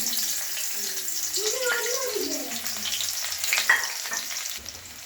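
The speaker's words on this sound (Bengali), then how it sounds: "একটু কালো জিরা ফোড়ন দিলাম" Black cumin seeds sputtering in hot oil in a home kitchen, a steady sizzle with brief crackles, while a voice murmurs faintly underneath.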